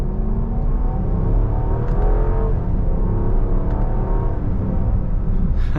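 A Jeep Grand Cherokee with a 5.7 V8 accelerates in sport mode with manual shifting, a loud, steady engine drone heard from inside the cabin, rising smoothly in pitch with no one talking.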